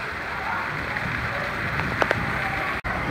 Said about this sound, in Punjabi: ਇੰਨਾ ਪਾਣੀ ਦਾ ਜ਼ੋਰ, ਔਰ ਮਾਸ਼ਾਅੱਲਾ ਧੁੰਨ ਕੇ ਬਾਰਿਸ਼ ਹੋ ਗਈ ਆ